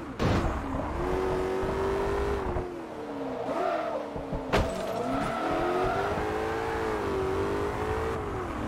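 BMW M3 GTR race car in Forza Motorsport 3, its engine droning steadily and climbing through revs as gears change, with a sharp transient midway and a brief tire squeal, loud and continuous throughout.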